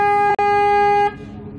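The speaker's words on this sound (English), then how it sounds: "you can hear the siren." A boat's siren near Bosten Lake sounds as a loud, steady horn-like tone for about a second, briefly interrupted once, then cuts off into quiet background noise.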